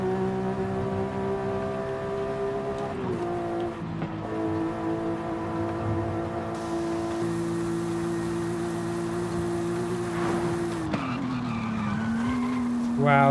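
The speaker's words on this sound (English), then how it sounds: "Wow, that braking." Game car in Forza Horizon 5 brakes hard and skids, tyres squealing over a droning engine that dips in pitch, settles, then shifts down again near the end, loud and close throughout.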